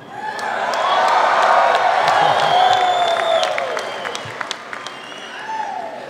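A large audience at an MBA spring convocation applauding and cheering, dense sustained clapping that swells and then slowly tapers, with whoops and shouts rising above it, loud and filling the hall.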